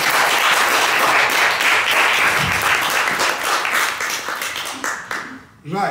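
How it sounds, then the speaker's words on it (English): Audience applause at an academic book launch on public sociology, a dense round of clapping that stays strong, thins into scattered claps, and then stops abruptly near the end. "Can you give the book a round of applause?"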